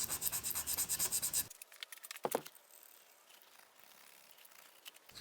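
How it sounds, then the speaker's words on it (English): A razor blade held flat scrapes old gasket material off an engine block during block prep, giving soft rasping and rubbing strokes, louder and denser at first, then lighter scattered scrapes up close. "So now we're just going to start scraping away at this. You want the razor blade to be as flat as possible."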